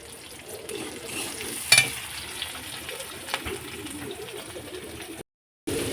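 Onion and green chili fry in a pan, giving a soft, continuous sizzle with a stirring clatter and a few scrapes, then a brief cut before the frying resumes.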